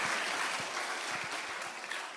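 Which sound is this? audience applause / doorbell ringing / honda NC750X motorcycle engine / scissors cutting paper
audience applause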